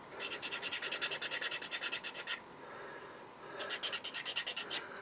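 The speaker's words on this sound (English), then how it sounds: "if you just sand flat, sometimes it'll rock back and forth while you're doing the sanding" A part of a 12-inch vinyl model kit is sanded by hand in quick rhythmic back-and-forth strokes, two bursts of raspy scratching with a short pause between them, close and fairly quiet.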